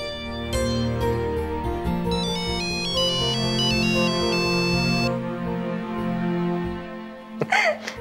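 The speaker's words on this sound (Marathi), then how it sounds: "फोन." A mobile phone ringtone plays loudly and close, a bright repeating electronic melody running for several seconds before cutting off, followed by a brief rustle as the phone is picked up.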